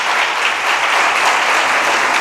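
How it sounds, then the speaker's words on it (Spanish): A church congregation applauds loudly to welcome a visiting pastor, a dense, steady wash of many hands clapping together throughout. "¿Cómo recibimos a los hermanos? Con un aplauso fuerte."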